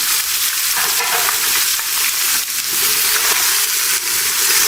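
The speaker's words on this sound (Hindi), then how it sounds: "चिकन को फ्राई कर लेंगे।" Chicken pieces fry in a pan for achari chicken karahi, a loud, dense, continuous sizzle and hiss with occasional stirring, close and unbroken.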